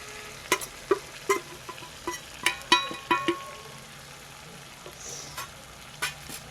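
A spoon scrapes and clinks against a pan as spice powder is stirred into chicken roast, about a dozen irregular strokes over a soft sizzle, no speech.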